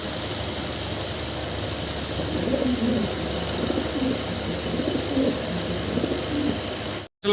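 A pair of fancy pigeons, including a large tiger-coloured male, coo quietly nearby in low, murmuring phrases over a steady background hum, ending in a short silence.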